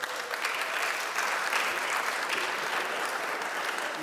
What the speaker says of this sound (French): Il y a que les femmes qui applaudissent.